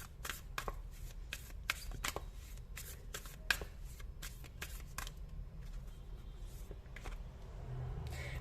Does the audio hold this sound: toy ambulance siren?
no